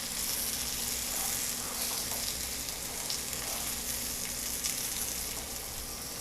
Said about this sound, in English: I'm gonna go ahead and throw this onion on